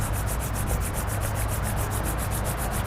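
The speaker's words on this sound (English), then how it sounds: "Rub your hands together one last time." Palms rub together in steady, rapid back-and-forth strokes at the close of a tai chi routine, making a loud, close, continuous rasping hiss with an even rhythm.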